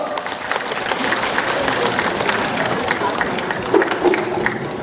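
Audience applause at the 2015 national Pumba Gakseori festival award ceremony in Muan, a steady dense crowd clapping filling the hall with a brief louder burst near the end.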